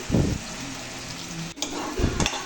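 Prepared masala frying in oil over low heat for a chicken gravy curry, giving a steady soft sizzle with a couple of louder bubbling spurts, close up and without talk.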